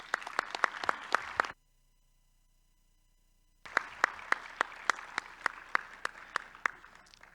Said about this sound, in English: However, I would request again a round of applause for Rosina and her staff.